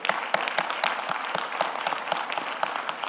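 An audience at an event on African Americans and the vote applauds for Karima with a steady, full round of clapping, the distinct claps sounding fairly close and continuing evenly for a few seconds.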